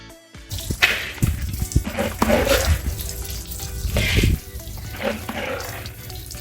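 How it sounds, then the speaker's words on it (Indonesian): Water runs and splashes from a tap as soaked soybeans are washed by hand in a tofu factory, with sloshing and stirring bursts, loud and close, and no voices. "Bapak Karim mencuci lagi biji kedelainya"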